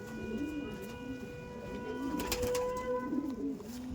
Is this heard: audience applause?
no